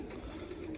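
Steel-coloured pigeons at a dovecote give a low, continuous cooing murmur, close and moderately loud, with a faint flutter of wings and no voices.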